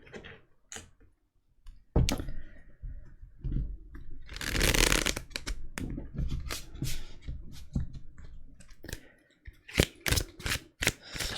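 Tarot cards shuffle up close: a long riffling burst in the middle, then crisp slaps and taps as the deck is squared and cards are laid down, with no one speaking.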